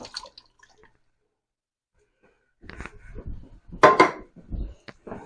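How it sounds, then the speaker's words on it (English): A can of tomatoes dumped into a pot of fish stock while making shrimp Creole: a wet, sloshing splash and metallic clinks of the can against the pot, close and moderately loud after a quiet start. "And I'm going to dump in my can of tomatoes."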